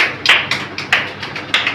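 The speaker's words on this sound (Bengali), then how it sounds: "সবাই একটা করতালি দেন" A small group claps at a university admission art event in Khulna: about eight sharp, separate claps in an uneven rhythm, close and fairly loud, with no talking over them.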